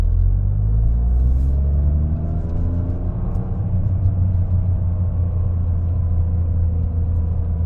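A Toyota GR Corolla fitted with an aftermarket pitch mount drives along with a loud, low engine rumble that rises and falls through gear changes, heard steadily from inside the car with no talk.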